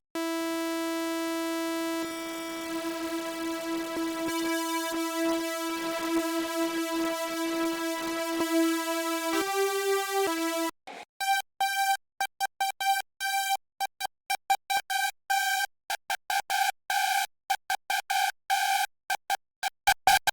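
A harsh, buzzing hardstyle screech synth layered with a super saw plays sustained detuned notes, then switches to rapid choppy stabs in a stuttering rhythm, loud and electronic.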